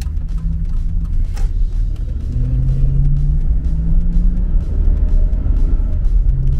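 Chevy truck with a 5.3 engine accelerating, a steady low engine rumble and road drone building and holding throughout, with rising tonal engine notes as it pulls; no talking.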